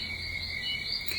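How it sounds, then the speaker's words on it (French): Outdoor night chorus in Guadeloupe, frogs and insects after heavy rain, a continuous high droning trill of chirps at even loudness, with no voices. "C'est les bruits de la Guadeloupe la nuit."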